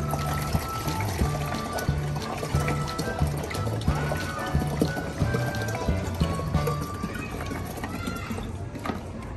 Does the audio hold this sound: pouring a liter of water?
yes